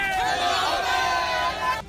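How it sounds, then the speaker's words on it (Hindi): A crowd of TMC supporters gathered in a street in Asansol, West Bengal, chanting slogans together, many voices loud and sustained throughout before cutting off abruptly at the end. "आसनसोल के एक दूसरे इलाके से सामने आई तस्वीरों में भी टीएमसी के समर्थक भीड़ जुटाकर नारेबाजी करते नजर आए।"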